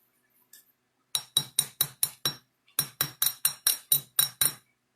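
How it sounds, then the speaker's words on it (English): A rawhide mallet taps a metal bangle on a bracelet mandrel in a quick, even series of about sixteen sharp, ringing clinks, close and distinct with a short pause partway through. "Straighten this all up with the rawhide mallet"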